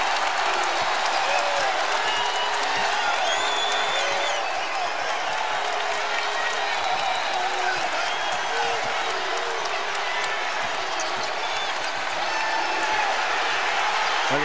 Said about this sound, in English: Man, listen to this crowd